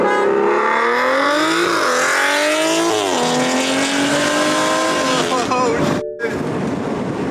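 Big turbo BMW F30 335i and 340i sedans, N55 and B58 engines, accelerating hard in a roll race: loud, continuous engine roar rising through the gears with shifts and turbo whine, heard from inside the car.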